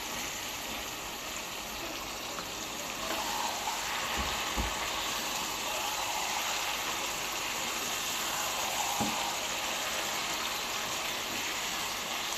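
Spicy chicken pieces sauté in a pan as the meat releases its juices, giving a steady hissing sizzle with a couple of faint clinks and no talking.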